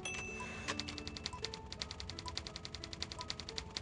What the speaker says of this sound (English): I'm a fast typer.